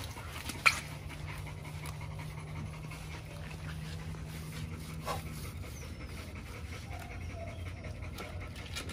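An XL pit bull pants steadily while being washed with water early in the morning, the close breathing continuous and soft, with a brief knock near the start and no speech.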